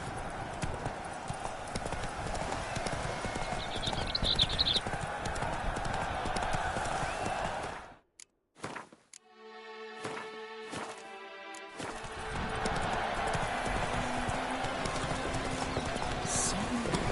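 Roach the horse galloping in Witcher 3, a run of clip-clop hoofbeats with a brief whinny, then a short pause and a muffled stretch before steady galloping and ambient game sound resume.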